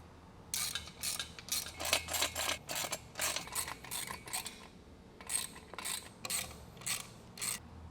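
Ratcheting clicks in quick repeated bursts while bolts are tightened during assembly of a Valor Fitness CB-14 seated row machine, close and fairly loud, with short pauses between runs and no talk.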